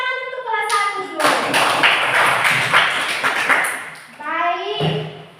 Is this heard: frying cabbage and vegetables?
no